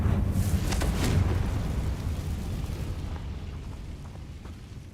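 A Confringo blasting spell explodes in the Hogwarts Legacy video game, a loud, rumbling boom that stays heavy for a second and then slowly fades into a lingering low roar.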